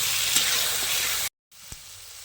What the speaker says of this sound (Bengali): আলুটা দিয়ে ভাজবো।